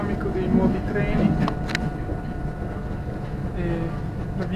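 A new panoramic passenger train rolls along in Tuscany or Umbria, heard from inside as a steady low rumble with faint rattles and a brief clatter, while people talk in the cabin.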